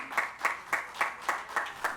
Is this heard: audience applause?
yes